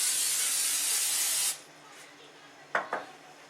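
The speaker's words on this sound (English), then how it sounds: "I'm just going to spray it down with my non-stick" Pam non-stick cooking spray hisses onto a heated griddle in one steady close burst lasting about a second and a half, followed by quiet and two faint scraping clicks.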